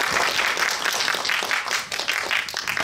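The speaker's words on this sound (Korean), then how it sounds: "박수 부탁드립니다." An indoor cinema audience at a post-screening film talk claps and applauds in a steady, dense patter for a few seconds, with no speech over it.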